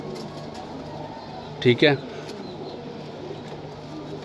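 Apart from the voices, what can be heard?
pigeons cooing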